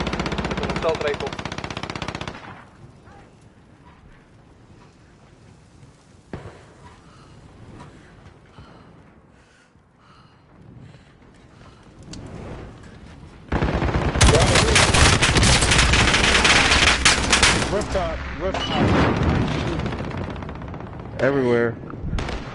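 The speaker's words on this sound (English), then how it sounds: "Assault rifle." Loud, sustained assault rifle fire in a multiplayer shooter, quieter at first and then a long dense rattling stretch of automatic shots, with players talking over it.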